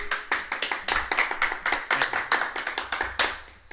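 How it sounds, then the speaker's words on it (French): Listeners at a band's rehearsal run-through clap together in a quick, steady rhythm, close and crisp, roughly five claps per second with no talking over them. "Allez-y, applaudissez, vous pouvez"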